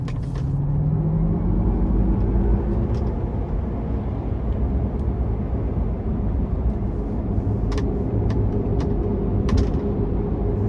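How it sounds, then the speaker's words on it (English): A 2023 GMC Hummer EV Pickup Edition 1 accelerates into a corner, heard from inside as a steady, loud low rumble of road and drivetrain noise with a faint rising whine near the start. "So I'm giving it a little throttle coming in this corner here."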